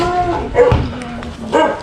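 A dog gives a few short yips and barks up close, quick whining bursts over a background hum.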